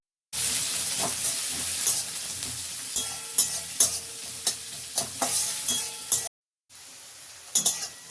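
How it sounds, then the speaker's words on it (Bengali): Chopped onions with black cumin sizzle in hot oil in a pan, a loud steady frying hiss broken by stirring clinks and scrapes, then a short pause before the sizzling and stirring resume. "কুচানো পেঁয়াজ দিয়ে দিচ্ছি।"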